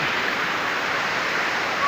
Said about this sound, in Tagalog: Nasa akong likod ang falls.